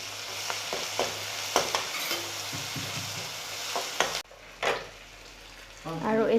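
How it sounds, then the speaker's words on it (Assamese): Crushed ginger, garlic and chilli fry with onions in hot oil, crackling under repeated spatula scrapes and knocks. The sizzle drops sharply partway through, then a voice speaks briefly near the end. "এতিয়া ইয়াতে দি দিছোঁ খুন্দি থোৱা আদা নহৰু আৰু জলকীয়া।"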